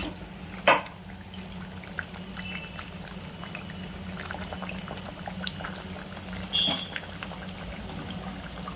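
Fish pieces go into a pot of spicy Indian fish curry on the boil, a steady low bubbling simmer with a sharp splash or clink early on and another brief knock later, no talking.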